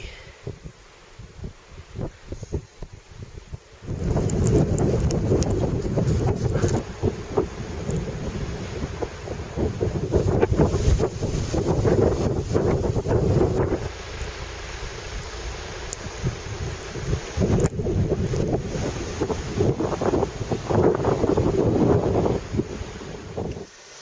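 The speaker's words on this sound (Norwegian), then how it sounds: "Tett snødrev og 13 i vind." Strong, steady wind roars and buffets the microphone for most of the clip, rising abruptly after a quieter start; a mountain snowstorm with dense blowing snow and 13 m/s wind.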